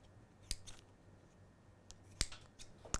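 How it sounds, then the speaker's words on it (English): Scissors snip the tip off a plastic piping bag in a home kitchen while doughnuts are being made. Two or three quiet, sharp metallic snips come close by against near silence. "I'm going to grab a scissors just to cut the end of the piping bag"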